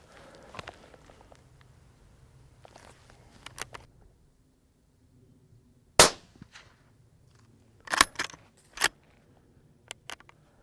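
A PARD 007 SP-equipped rifle fired at a fox in the countryside, one sharp loud crack after a quiet pause, followed by a few more short bangs and clanks, with faint rustling earlier.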